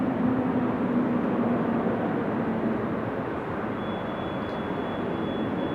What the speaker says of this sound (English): Turkish 777 on the move. Going to runway 24 to take off.